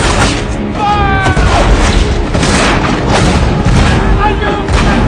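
Naval cannon fire aboard a sailing warship during a sea battle in the film Master and Commander, a series of loud deep booms over constant battle noise with shouted voices mixed in.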